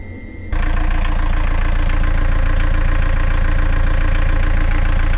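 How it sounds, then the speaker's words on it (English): A narrowboat's engine, just repaired with a new belt, runs loud and close with a steady, even low-pitched throb after an abrupt start-up surge, continuing without any talking. "I don't know if you can hear me over the sound of the engine, but the fix has worked"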